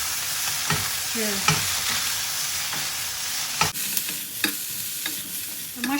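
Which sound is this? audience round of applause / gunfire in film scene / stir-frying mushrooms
stir-frying mushrooms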